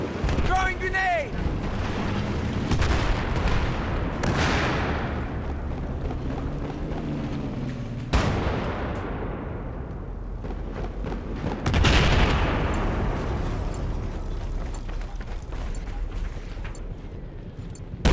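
A grenade explodes in a Call of Duty Black Ops 3 or Battlefield 4 match: heavy booms burst out of rolling gunfire and battle noise, with voices talking over the action.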